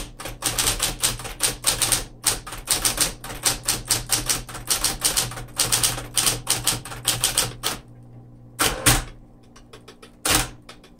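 A 1961 Smith Corona Model 200 typewriter types in rapid, sharp key strikes for about eight seconds, then gives a few heavy thuds from the forceful carriage return, all close and with no speech.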